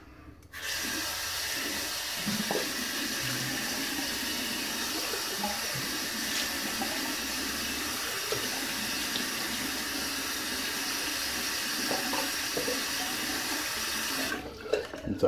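A bathroom tap runs steadily to wet the face, a continuous hiss of flowing water close by with small splashes and clinks. It starts abruptly near the beginning and cuts off just before the end.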